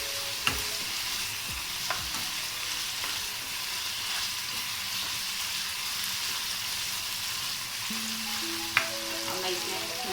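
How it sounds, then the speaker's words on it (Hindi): Turmeric being stirred into a chicken filling frying in a pan, with a steady soft sizzle and occasional spoon scrapes and clicks throughout, no talking. "अच्छे से कर लेंगे मिक्स।"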